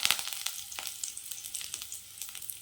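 Fennel seeds and curry leaves sizzling in hot oil in a kadai, with a steady close crackling hiss and sharp popping spatters, no voices.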